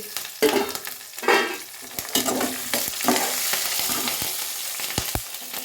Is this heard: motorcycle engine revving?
no